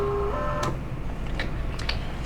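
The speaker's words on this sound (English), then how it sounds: "We're going to put our paper ballot back into the printer," A ballot printer feeds a paper ballot back through during e-poll book work, giving a brief whirring tone followed by a few soft mechanical clicks and ticks in an otherwise quiet room.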